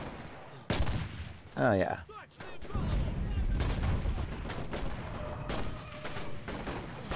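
Gunfire in the World War II shooter Enlisted, with sharp rifle and machine-gun reports and distant booms rolling over steady battlefield noise, while someone speaks briefly in between.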